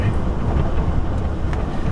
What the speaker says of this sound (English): The wind is whipping outside.